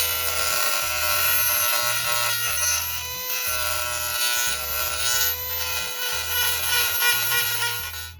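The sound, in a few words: Dremel rotary tool grinding a cold air intake part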